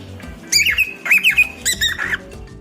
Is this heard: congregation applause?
no